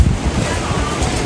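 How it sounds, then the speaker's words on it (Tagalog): Rough ocean waves rolling in at the sea's edge during strong weather, a brief, loud rumbling wash buffeted by wind against the microphone. "Grabe na ang alon."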